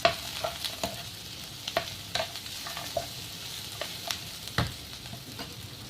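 Cashew nuts and raisins (kishmish) fry in a pan over a slow flame, giving a soft sizzle with repeated light scraping and stirring clicks at an irregular rhythm.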